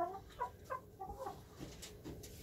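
Hens sick with mycoplasmosis clucking softly and sleepily in short, uneven bursts, a few nearby calls over a quiet background.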